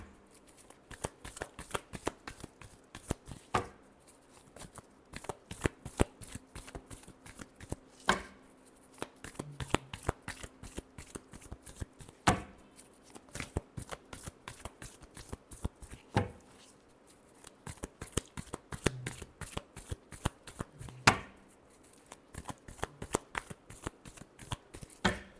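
Tarot cards are shuffled again and again, close up, in a dense rapid riffling patter with short breaks between bursts, a quiet voice murmuring now and then.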